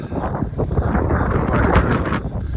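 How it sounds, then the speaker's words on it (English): Gusty wind buffets the microphone in rumbling, uneven bursts, loud and close throughout, with no clear speech. "Quite busy now because it's quite windy."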